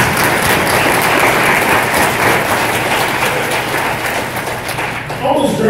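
Graduation ceremony audience applauding, a dense, loud, steady wash of clapping that holds throughout, easing slightly near the end before swelling again.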